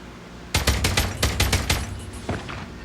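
Automatic assault rifle gunfire in Call of Duty Mobile: a rapid burst of about eight loud, sharp shots in quick rhythm, followed by a brief pause and two or three softer follow-up shots over low game ambience.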